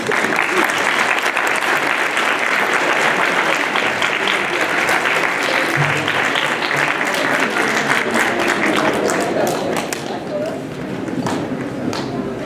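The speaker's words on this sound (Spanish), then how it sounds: "Brindémosle un fuerte aplauso" An audience at a talk on managing emotions in adolescents gives loud, sustained applause, a dense wash of clapping that fades slightly near the end, with voices mixed in.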